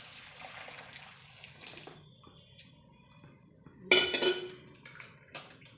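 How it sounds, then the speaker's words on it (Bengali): Water is poured into a pot for cooking broken-rice bhat, with soft trickling, then a sharp metallic clink and clatter of utensils partway through, close by. "দেখেন জল দিচ্ছি তো কতটুকু।"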